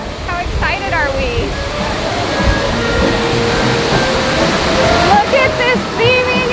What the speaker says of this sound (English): You can see all the waterfalls.